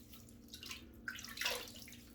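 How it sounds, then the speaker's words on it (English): Warm water runs from a bathroom sink tap before a shave with a Karve razor, a soft close splashing and trickle that swells briefly, faint and without talk. "Warm water out of the sink."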